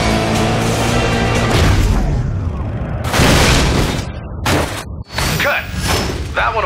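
Explosion in the video game Stuntman Ignition, a loud booming blast with whooshing debris and game music, followed by a sharp cut and further bursts close by.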